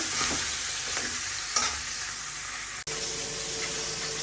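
A fish head frying in hot oil in a pan gives a constant crackling sizzle, broken by a few stirring scrapes and a brief gap near the end.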